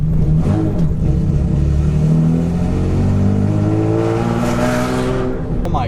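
A cammed Infiniti G35 revs hard while driving, its loud, steady engine drone rising and falling with the throttle throughout, a voice briefly audible over it.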